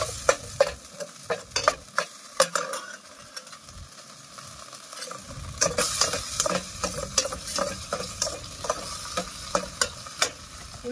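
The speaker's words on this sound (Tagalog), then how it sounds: "ilagay na din natin tong ating bawang at sibuyas" Garlic and onion sautéing in oil for a tuna pasta, a steady close sizzle broken by rapid, rhythmic stirring clicks and scrapes of a utensil against the pan, with no voices.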